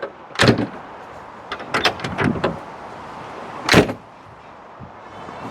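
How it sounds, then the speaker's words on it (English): A Rover P4 classic car door is shut twice, each a sharp, solid thunk close by, with a cluster of smaller latch and handle clicks between them and quiet surroundings otherwise. "Can we expect good door shut sounds from a car of this age?"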